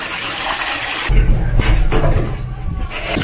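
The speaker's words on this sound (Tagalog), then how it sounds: "mas malakas din yung kanilang tubig" A strong stream of water runs from a tap in a campsite bathroom at Caisip-Butiong Campground in Calatagan, a loud steady rush that starts partway in after a brief quieter stretch.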